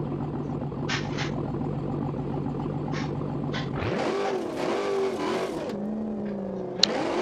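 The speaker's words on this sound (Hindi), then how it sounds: "मस्टैंग की जो आवाज हमें सुन रही है भाई जबरदस्त वाली सुन रही होगी" A Ford Mustang in the BeamNG driving game revs its engine with a steady droning note that climbs and falls. Brief higher bursts and a short sharp transient near the end cut through the loud, continuous engine sound, with no talking.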